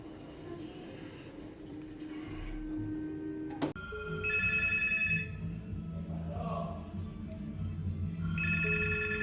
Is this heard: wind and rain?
no